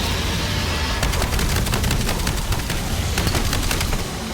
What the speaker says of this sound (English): Just gonna throw another grenade.